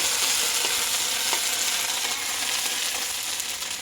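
Curry paste frying and being stirred in hot oil for fried fish with chili sauce, a loud, steady close sizzle with faint scraping of the stirring throughout.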